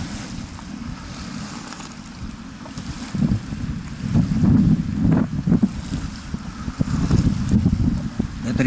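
A hovercraft on the Severnaya river rumbles from a distance through heavy wind buffeting, a low engine drone swelling midway and staying mixed with gusty microphone noise.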